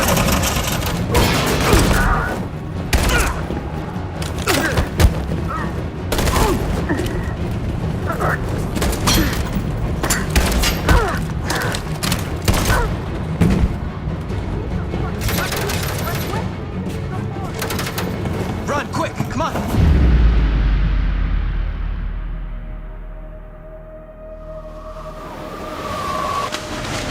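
Dense, rapid gunfire and heavy booms from a combat scene in Detroit: Become Human, loud and continuous for about twenty seconds, then fading into a low rumble and quieter aftermath.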